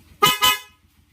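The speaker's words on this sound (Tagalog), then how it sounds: "Okay, busina. Lakas, grabe kalakas." A Korsa V3 snail horn fitted to a Honda TMX motorcycle blasts twice in quick succession, loud and close, each honk bright and sharp with a brief gap between them.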